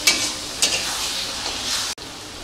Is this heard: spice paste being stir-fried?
yes